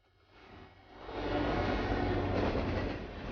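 A train rolls along nearby tracks in the video game Twin Mirror, swelling from a faint rumble into a steady, loud clatter of wheels and cars that holds to the end.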